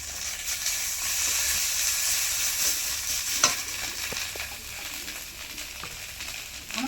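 Ground ginger paste hitting a pan of frying onion and garlic, giving a loud, steady, bright sizzle with a few sharp crackles and stirring scrapes, close and unbroken by talk.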